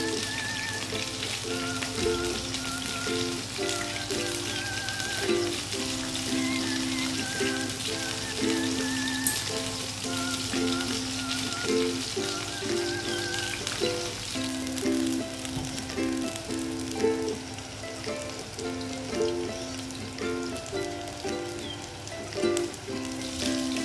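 Meat for a rat dish fries in hot fat for a long stretch, with constant crackling and oil spattering close up and no talk.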